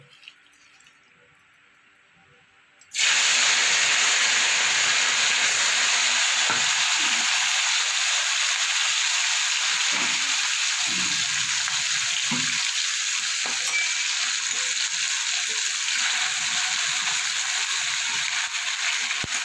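Small mourola fish dropped into hot oil in a kadai, a quiet lead-in giving way abruptly to a loud, steady, close frying sizzle that continues unbroken with faint bubbling underneath.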